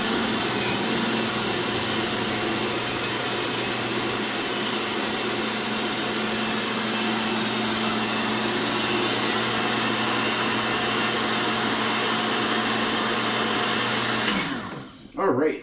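A blender purees food for ribs, running at a steady, loud whir for about fourteen seconds before cutting off abruptly, followed by a brief clatter.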